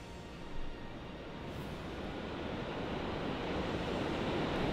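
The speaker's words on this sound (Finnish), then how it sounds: "Ankkapurhan koski virtaa vuolaana ja voimakkaasti." The Ankkapurha rapids in Kouvola rush strongly in a steady, dense roar of white water that stays loud and unbroken, swelling slightly toward the end.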